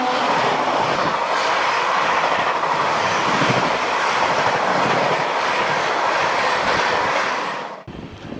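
A train runs on its tracks near Kurseong, heard from inside the rear coach as a loud, continuous rumble and clickety-clack that drops off abruptly near the end.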